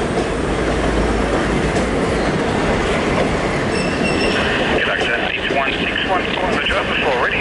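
A train hauled by locomotives N459 and A66 rolls steadily past on the rails, a continuous loud rumble with faint wheel squeals and clicking joints toward the end.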